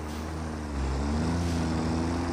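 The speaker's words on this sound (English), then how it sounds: "I'm driving the tractor." Engine drone of a tractor being driven in the VR game Satisfactory, a steady low motor hum with tonal whine that rises slightly in pitch partway through.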